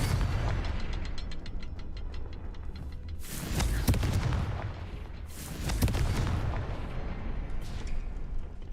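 Spell blasts from the Hogwarts Legacy video game: loud, heavy booming explosions land in two big bursts over a constant rumbling bed of game combat noise, with crackling debris trailing off after each.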